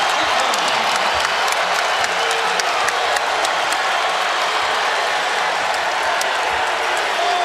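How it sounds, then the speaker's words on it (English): A packed Virginia crowd roars at a college men's basketball tournament game against Boston College, a dense, sustained wall of cheering and applause with scattered whoops and sharp claps throughout, loud and continuous without letup. "And the Virginia faithful in full throat here"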